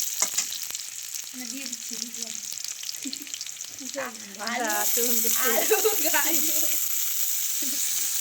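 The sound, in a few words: onions, potato, carrot and peas frying in pan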